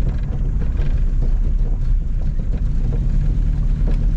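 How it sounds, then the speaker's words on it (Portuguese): A 1977 VW Passat TS is driven on the road, its engine and cabin noise forming a loud, continuous low rumble with no speech over it. "Bastante barulho aí o carro, como vocês podem ver."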